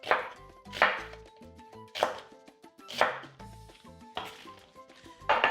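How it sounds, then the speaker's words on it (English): A knife cuts through food on a cutting board, slicing beef for fajitas into thick strips, with several separate crisp chopping strokes at a steady, unhurried pace, close and clear with no talking. "Cut it in half and then just cut it into thick strips here."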